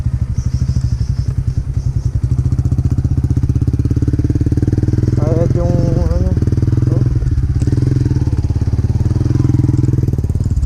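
A motorcycle engine chugs loudly and steadily close by, with a person speaking briefly over the rumble.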